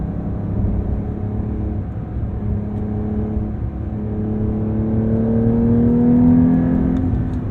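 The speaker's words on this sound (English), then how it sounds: "That sports exhaust and the reduced insulation, we're hearing more of that flat six." Porsche 911 T manual with flat-six engine and sports exhaust, steady engine drone while driving, pitch rising smoothly as it accelerates near the end, continuous and fairly loud.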